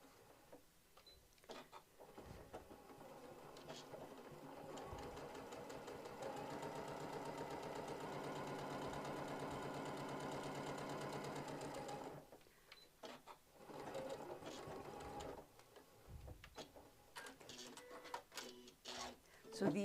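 A sewing machine stitches a travel tissue holder in one steady run of about six seconds in the middle, framed by quieter handling noises and intermittent speech.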